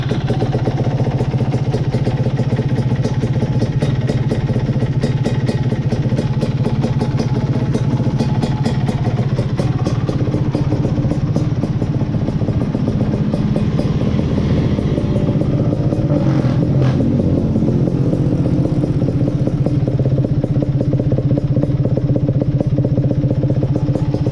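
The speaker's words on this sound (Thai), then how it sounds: "นี่ฟังเสียงเครื่องะ" Honda LS125 motorcycle engine running steadily at idle, a continuous low mechanical drone with light clatter, close by and alone without talk.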